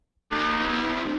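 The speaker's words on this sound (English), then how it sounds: "Once you hear those engines, you know it's that time of the year again." After a brief silence, a race car engine at North Pole Speedway bursts in loud and close, a sustained high-revving roar with tire squeal during a practice session.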